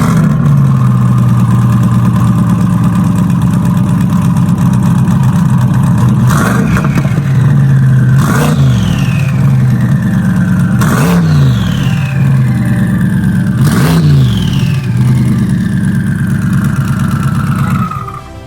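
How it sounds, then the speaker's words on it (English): Twin-turbo Chevy Corvette C8 with a roughly 920 WHP build, cold-starting and holding a loud, steady high idle, punctuated by four sharp revs that rise and fall back, close up and without talk. "All right, I'm gonna fire this up, let you hear the cold start."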